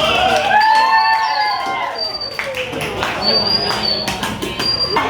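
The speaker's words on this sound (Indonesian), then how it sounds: "beri tepuk tangan buat Delsi" A classroom of pupils applauds and cheers for their classmate Delsi, with shouting children and overlapping voices over scattered clapping, loud and lively throughout.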